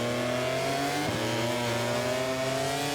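A racing motorcycle in MotoGP 24 at Sepang, its engine whining high and steady as it accelerates, with a brief shift dip early on, loud and continuous with no talk.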